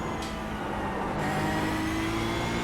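A Toyota GR86 engine pulls hard under acceleration in the iRacing simulator at Okayama, a steady loud drone with rising pitch and a brief shift-like break early on, no voices over it.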